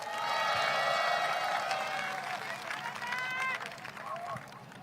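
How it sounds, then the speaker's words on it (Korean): A rally crowd in Siheung greets a young speaker with a burst of applause and cheering, loud at first and tapering off, mixed with an amplified voice over a public address system. "큰 박수 부탁드릴게요."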